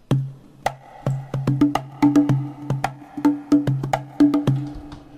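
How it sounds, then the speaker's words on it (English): A cajon plays a steady groove on its own, deep bass thumps alternating with crisp slaps in a lively, repeating rhythm. "Let me just play you that cajon on its own."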